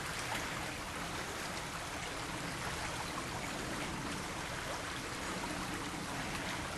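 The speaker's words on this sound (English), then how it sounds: "We've got a little spring that feeds the pond in front of the church." A small spring-fed stream feeding a pond before a church in the North Yorkshire countryside trickles with a faint, steady, even wash of water that keeps going without a break.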